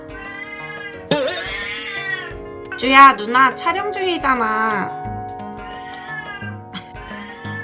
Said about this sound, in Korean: 고양이 소리 나는 거 양해 부탁드립니다.